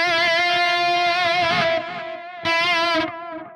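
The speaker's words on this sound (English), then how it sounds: "This is a really cool delay. Obviously quite a wet signal there." Sustained distorted guitar tone through a tape delay in the Neural DSP Archetype: Gojira plugin, soaked in warm echo, with repeats trailing off, cutting out, then swelling back briefly before fading.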